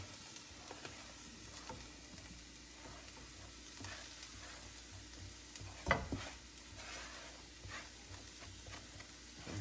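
Onions, green onions and thyme sauté in a pan for Jamaican beef patties with a soft, steady sizzle and faint stirring, quiet and continuous, with one brief knock partway through.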